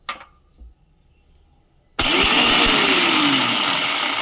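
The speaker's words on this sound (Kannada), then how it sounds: "ಹುರ್ಗಡ್ಲೆನ ಸ್ವಲ್ಪ ತರಿಯಾಗಿ ಮಾಡ್ಕೊಳ್ಳೋಣ ಚಿಕ್ಕ ಮಿಕ್ಸಿಗೆ ಹಾಕ್ಕೊಂಡು" A small mixer grinder coarsely grinds roasted gram, starting abruptly after a couple of quiet seconds and then running as a loud, steady, close whirring roar to the end, with no talk.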